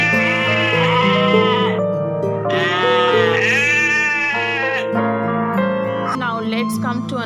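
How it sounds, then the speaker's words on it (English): Sheep bleating in several long, wavering cries, loud and close, one after another with brief gaps and no talk over them. "What is a sound made by a sheep?"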